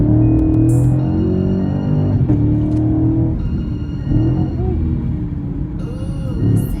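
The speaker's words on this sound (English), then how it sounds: "Yeah, I hear that downshift." Chevrolet Camaro SS engine dropping a gear, a steady low rumble inside the cabin with a brief rise in revs partway through, recorded from within the car while driving.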